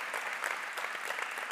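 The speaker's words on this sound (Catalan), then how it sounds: "Un aplaudiment per ella." A short burst of applause from a small audience, fairly faint and steady throughout.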